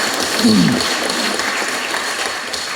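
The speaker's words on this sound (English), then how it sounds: "So clap for yourself." Audience at a university lecture clapping for themselves, a sustained even burst of applause from a large crowd, fairly close and continuous.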